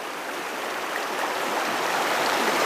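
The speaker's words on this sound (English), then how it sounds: "no way can I cross this river today. It's up by probably a good 8 to 12 inches" A swollen river runs high and fast, water up by eight to twelve inches, a dense continuous rushing roar that stays steady and close with no voices.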